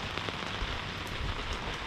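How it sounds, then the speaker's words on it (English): Steady rain pours in Bowen, Queensland, a dense continuous hiss of drops on surfaces with no pauses, close and even throughout. "And it's steadily raining."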